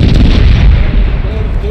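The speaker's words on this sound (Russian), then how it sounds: "Она в нас стреляет, я в нее стреляю." Ship cannons firing during a naval battle in the pirate video game Corsairs Legacy, a loud, continuous rumbling barrage of booming shots with heavy low-end roar throughout.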